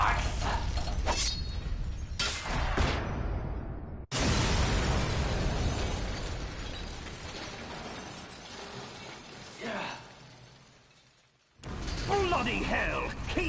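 A radome shatters and explodes in the Metal Gear Solid video game, with a loud burst of breaking and debris and voices talking around it, followed by a fading rumble, near silence, then more noise.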